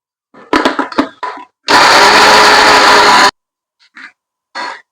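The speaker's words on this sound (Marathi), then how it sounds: "कांदा वाटूया." A mixer grinder whirs loudly for about a second and a half as it grinds onion and coconut masala. Short bursts of handling noise and clatter come before and after it, set against silence.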